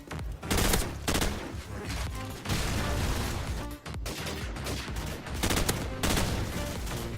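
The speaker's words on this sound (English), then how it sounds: "that's the M16, and I'll put in some gameplay of it now" M16 assault rifle firing in Modern Warfare Remastered, loud close bursts of rapid gunfire in several clusters with brief pauses between volleys, accompanied by game effects.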